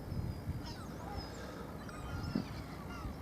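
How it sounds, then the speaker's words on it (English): Seagull cries drift faintly in the distance over a steady low rumble of wind and water aboard a boat near the Strait of Gibraltar, with a few scattered squawks. "Seagulls are everywhere."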